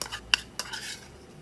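A garlic, pepper and coriander-root paste is added and stirred into a pot of boiling water for a clear chicken and bok choy soup. A metal utensil gives two quick clinks against the pot, then quiet scraping.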